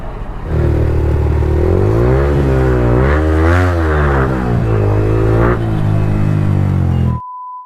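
A 2024 Yamaha R15M motorcycle engine revs loudly and close, one sustained rev climbing, wavering and falling over about seven seconds, then cutting off abruptly, with no talking.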